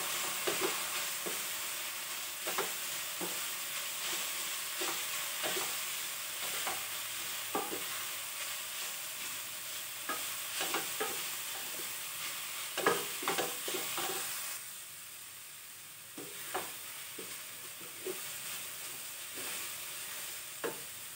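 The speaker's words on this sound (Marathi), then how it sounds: "तायकुळो अशे तरेन परतून घेता थोडो वेळ।" Cassia tora (takla) leaves sautéed with soaked toor dal in a pan for a takla bhaji, giving a steady soft sizzle broken by frequent scraping stirs of the spatula, close and alone.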